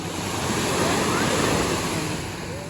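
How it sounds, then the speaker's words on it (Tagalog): Small sea waves wash onto Pamplona Little Beach in a steady, close roar of surf blended with wind noise on the microphone, continuous and fairly loud without talk. "maliit lang yung gulong o yung alon"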